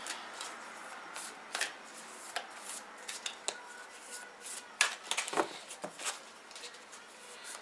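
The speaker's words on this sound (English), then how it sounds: "These cards are big. It's a little hard for me to shuffle." A deck of oversized cards is shuffled by hand in slow, uneven bursts, giving soft papery riffles and sharp flicking snaps close to the microphone in a quiet room, with no talking.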